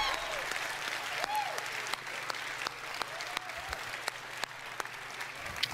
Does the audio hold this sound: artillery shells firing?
no